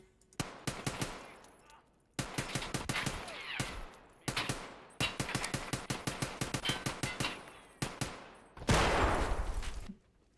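Rapid automatic gunfire from an Escape from Tarkov match, several loud close bursts of rounds in quick rhythmic succession separated by brief pauses, with one heavier sustained blast near the end.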